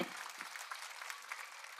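Audience applause from parents at a school annual function, a steady, fairly quiet patter of many hands clapping throughout, with a brief voice at the start.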